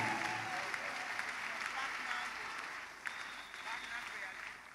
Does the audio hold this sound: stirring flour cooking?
no